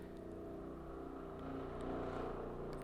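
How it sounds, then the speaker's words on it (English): A helicopter passes overhead outdoors in North Carolina, a steady low rumbling drone that swells slightly toward the end, heard alone without talk. "That's a helicopter."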